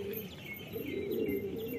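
Patiala pigeons coo in low, rolling murmurs close by, joined by a few high chirps and faint background tweets, with no one speaking.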